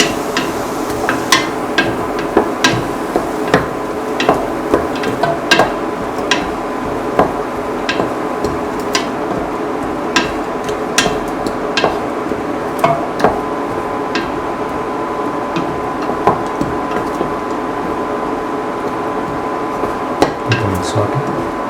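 Tomato potato rice being sautéed in a pan, with repeated clinking and scraping of a spoon against the metal over a constant low hum, the taps coming in an irregular steady rhythm throughout.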